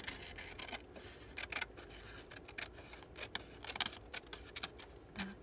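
Scissors snip through paper book pages in faint, irregular clicks and crisp cuts close by in a quiet room.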